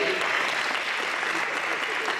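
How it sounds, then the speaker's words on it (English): Sustained applause from an audience at a charity party event, a dense continuous patter of many hands clapping at steady loudness throughout, with some voices mixed in. "And how about another round of applause?"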